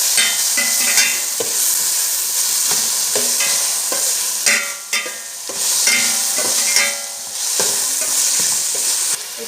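Chopped tomato stirred and mixed in a frying pan while making gobi manchurian: a steady close sizzle broken by repeated rhythmic scrapes and clacks of the spoon against the pan.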